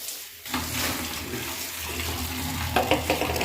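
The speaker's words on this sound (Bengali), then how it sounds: "বাবারে জলটা ঠান্ডা কি, কিছু জামা কাপড় ধুয়ে" Cold water runs in a steady, close rush, splashing into a bucket for washing clothes at home.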